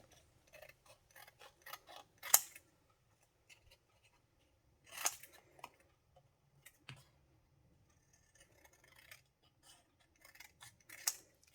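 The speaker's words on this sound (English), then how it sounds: "we're gonna get the scissors, and I'm going to cut the word" Scissors cut paper in a series of sharp, close clicks and crunches, irregular bursts separated by quiet pauses.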